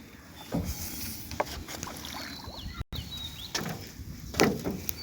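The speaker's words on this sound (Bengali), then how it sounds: "নৌকাটি কিন্তু আমি বাঁশ দিয়ে ধাক্কা দিচ্ছি" A rowboat pushed along with a bamboo pole in shallow water gives a few soft knocks and splashy strokes over light wind and quiet water ambience.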